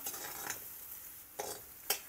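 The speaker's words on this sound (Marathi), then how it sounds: "कांदा चांगला गुलाबी होईपर्यंत परतायचा आहे।" Soft steady sizzle of onions sautéing in butter in a pan over medium flame, with a few brief scraping stirs of a spatula; no voices.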